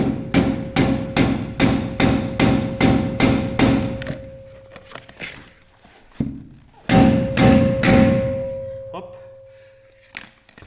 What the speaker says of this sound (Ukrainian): рукою і молотком резиновим будемо бити в мультиблок акуратненько